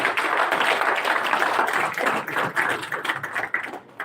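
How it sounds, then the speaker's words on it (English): An audience at a Reef Republic political party conference breaks into applause, a dense burst of clapping that stays steady, then thins into scattered claps as it fades out. "Round of applause for the Reef Republic."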